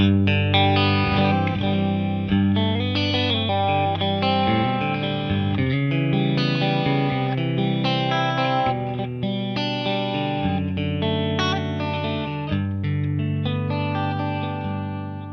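A PRS 35th Anniversary SE Custom 24 electric guitar in the center pickup position, both pickups split to single coil, plays a bright, slightly driven tone, strummed chords and picked notes ringing continuously with a touch of chorus.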